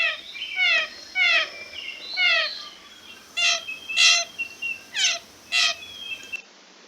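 Blue jay calls, a corvid that mimics other birds including predators, ring out in a series of about ten clear, harsh, descending notes in two loose groups, fairly close and loud with no other sounds.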